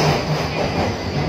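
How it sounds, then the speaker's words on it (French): London Underground train in a station, a loud close rumble of rolling carriages with rhythmic clatter and a faint high squeal, heard alone over a short moment. "C'est le métro de Londres."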